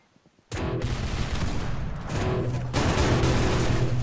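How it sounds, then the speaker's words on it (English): Near-silence, then a dense, loud burst of rapid gunfire in the Roblox game Ace Pilot Arsenal, sustained with overlapping shots and growing heavier toward the end. "Why do I still hear shots?"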